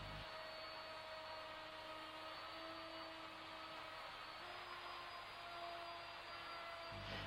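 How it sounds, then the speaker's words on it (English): A router cuts a laminated kitchen worktop guided by a Trend jig, giving a loud, steady high-pitched whine with a dense cutting roar that holds throughout and stops abruptly near the end. "The cut is then made, holding the router firmly against the jig at all times."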